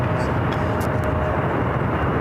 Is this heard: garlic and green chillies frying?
no